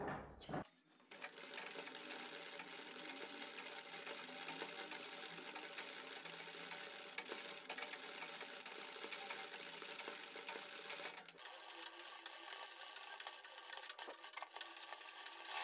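Sewing machine running steadily while stitching gathers along a fabric strip for a neckline, a continuous close whirring hum for nearly the whole stretch with a short start at the beginning and a slight change in tone near the end.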